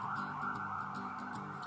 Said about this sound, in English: there's sirens everywhere